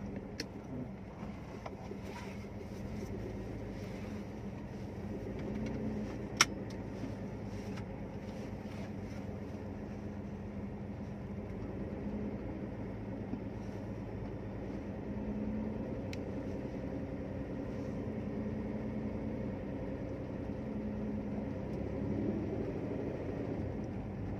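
Rare Mitsubishi FTO GP Version R two-door coupe, modified, heard from inside while driving: a steady low engine drone and road hum that continues evenly throughout, with a faint click near the middle and no talking.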